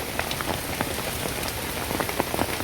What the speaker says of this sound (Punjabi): بارش ਲੱਗਦਾ ਫੇਰ ਚੱਲ ਪਈ ਏ